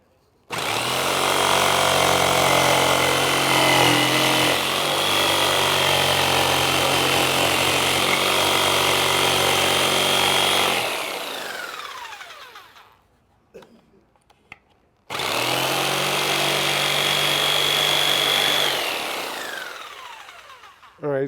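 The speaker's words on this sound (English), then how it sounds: "with the jigsaw, you're only going to get it so good anyway" A jigsaw cuts handle holes in a wooden bowl, running loudly and steadily for about ten seconds, winding down, then starting again for another long cut.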